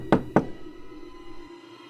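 Two sharp knocks on a lighthouse door, close and solid, in quick succession, followed by a low quiet hum with no voices.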